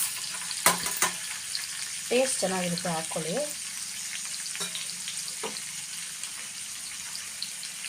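Chana dal and peanuts sizzle steadily in hot oil in a pan with garlic and tomato for a tomato chutney, while someone speaks briefly over the frying.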